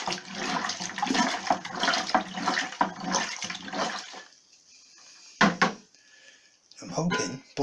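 Sterilising solution of water stirred in a container while making oak wine: close sloshing and swirling with a few clinks against the sides, then quieter splashes, as a person talks.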